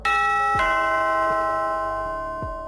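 A doorbell chimes three times, each ding ringing out with a long sustained tone that slowly fades between strikes.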